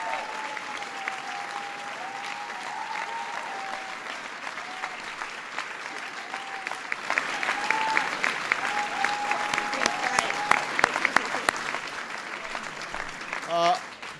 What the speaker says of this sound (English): Please give Steve a big round of applause.